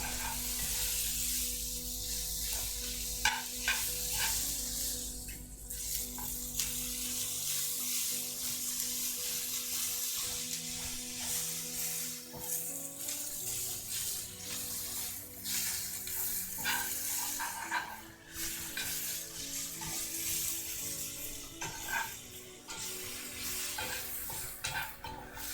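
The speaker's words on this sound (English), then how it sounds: "Let me get these onions going. Make sure we're not burning our garlic here on bottom." Onions and garlic frying in a pan, a steady soft sizzle under repeated scraping and clinking from stirring, close and fairly quiet throughout.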